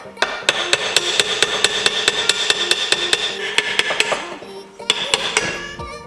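Sharp metallic hammer strikes ring out in a steady rapid series, loud and close, with a brief pause before a few final blows.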